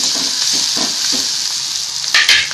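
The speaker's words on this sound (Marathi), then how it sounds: "आता कांदा भाजत आलाय." Onion frying in a pan for a peanut mhadya recipe, a steady close sizzle and crackle with a few soft stirring scrapes and no talk.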